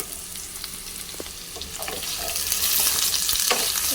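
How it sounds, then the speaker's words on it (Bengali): Finely chopped carrots sizzle in a pan with fried onions, a continuous close crackling hiss with occasional stirring clicks, growing slightly louder toward the end, no talking. "গাজর কুচি দিয়ে দিলাম।"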